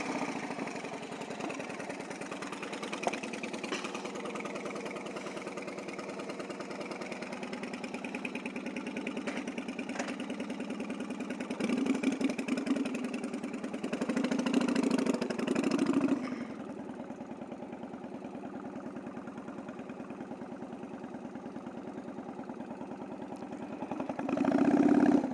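A motorbike engine idles steadily for the whole stretch, a low continuous rumble that swells louder briefly midway and again near the end, with no talking.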